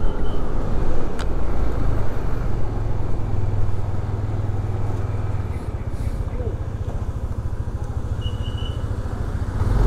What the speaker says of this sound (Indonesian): Barusan tuh ada pengawalan mobil Alphard barusan ya.